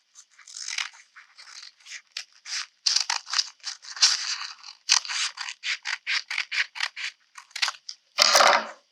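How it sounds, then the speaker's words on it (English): Scissors cut through crinkly tissue paper for flower and pom pom crafts in a quick series of close, crisp snips and crunches, ending with a louder rustle. "we're just going to cut that"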